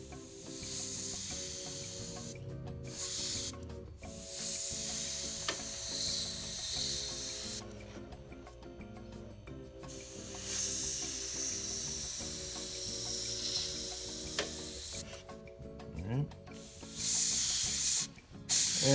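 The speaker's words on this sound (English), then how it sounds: "The noise you hear is the air hitting the surface and the paper." A Harder & Steenbeck Infinity airbrush with a .15 needle nozzle sprays paint on a 28mm A15 Crusader model tank at 10 to 15 psi, a loud steady close hiss in long bursts with brief pauses, under background music.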